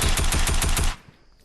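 A TAC AR assault rifle fires in a video game, a loud, rapid automatic burst of about eight evenly spaced shots that stops abruptly and leaves a brief fading tail.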